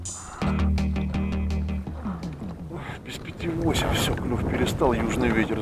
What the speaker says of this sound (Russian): южный ветер задул